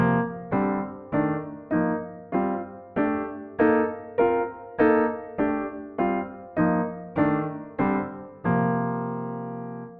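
A series of block chords steps up and then back down, about fifteen evenly spaced strikes with a longer final chord, played alone.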